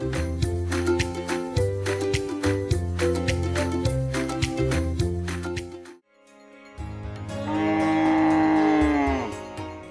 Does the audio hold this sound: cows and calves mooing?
yes